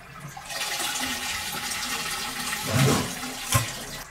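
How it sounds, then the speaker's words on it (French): A toilet fitted with a macerator pump being flushed, a rushing burst of water followed by gurgling and a brief pump surge near the end, heard close up in a small room. "lorsqu'on tire la chasse, le niveau dans la pompe augmente et la pompe évacue"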